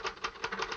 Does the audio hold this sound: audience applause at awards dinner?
no